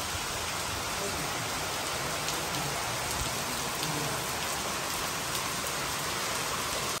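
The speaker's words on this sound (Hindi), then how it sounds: "और बारिश फिर से स्टार्ट हो गई है।" Steady rain pours down outdoors in a continuous hiss with dense patter of drops, constant and fairly loud throughout, with no other distinct sounds standing out.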